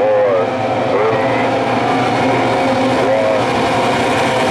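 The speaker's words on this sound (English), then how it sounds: "listen to the engines" Race car engines revving at the start of an ASR final heat, a loud continuous roar with rising and falling pitch sweeps, close and dominant throughout.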